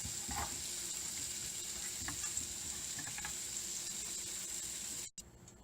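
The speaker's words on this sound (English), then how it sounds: "So saute them for about 3 to 4 minutes until the color turns a bit golden brown" Paneer cubes sauté in a pan for matar paneer, a steady faint frying hiss with occasional light stirring taps, continuous until it cuts off abruptly near the end.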